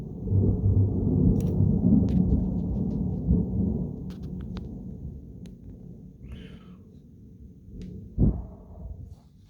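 A long, loud rumble of thunder from a nearby lightning strike in Alsace rolls and slowly fades over several seconds, followed by a single sharp crack near the end.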